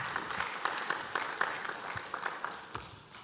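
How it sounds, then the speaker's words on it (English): Audience at the Uganda National Oil and Gas Symposium 2021 applauding a speaker: fairly faint, scattered clapping with distinct individual claps standing out, tapering off toward the end. "Another round of applause for him"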